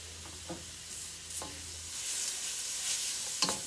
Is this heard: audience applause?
no